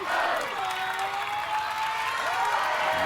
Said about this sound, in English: this crowd is chanting Sergio